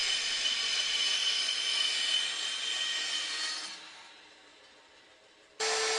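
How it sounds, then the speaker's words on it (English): A bandsaw cuts rounded corners off a wooden children's tabletop, a steady bright rasping cut that fades out near the end before a short loud burst resumes. "which I then cut off with a bandsaw."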